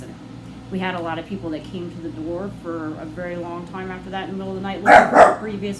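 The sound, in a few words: dog barking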